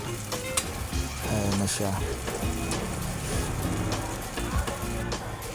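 Hotdogs with ketchup sizzle steadily in a frying pan while being stirred, with a continuous hiss and scraping stirs close by, and a person talks over the cooking.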